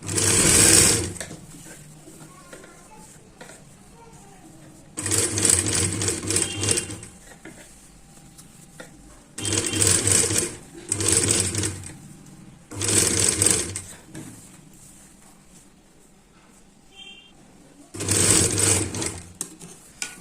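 A sewing machine runs edge-stitching around the neckline of a katori-style blouse, in five bursts of rapid, steady stitching separated by quiet pauses, close and fairly loud.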